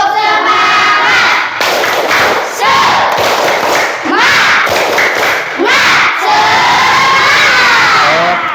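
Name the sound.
schoolchildren performing tepuk semangat clapping chant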